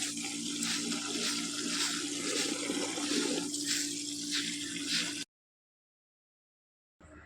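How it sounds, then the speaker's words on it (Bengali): Tap water runs and splashes steadily over drumstick (moringa) leaves being washed in a sink, loud and continuous for about five seconds, then stops abruptly before a brief return at the end. "শাকটা ধোবো"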